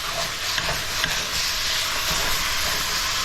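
Ground meat with a spice blend sears in a hot pan for tacos, a steady loud sizzle and hiss with faint stirring scrapes throughout.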